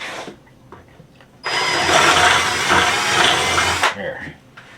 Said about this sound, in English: I might have a little bit more drilling on this to do.